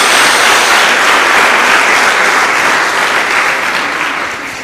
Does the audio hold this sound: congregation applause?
yes